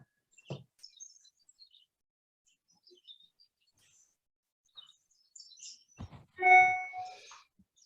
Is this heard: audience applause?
no